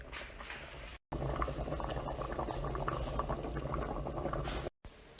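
A bean sauce bubbling on the stove as it is stirred and thickened, a steady close burble of thick bubbles that cuts out briefly at the start and end.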